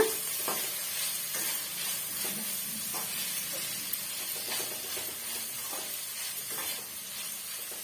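Steady sizzling and hissing of salted, turmeric-seasoned cabbage stir-frying in a hot pan, with occasional scraping stirs, continuous and close throughout.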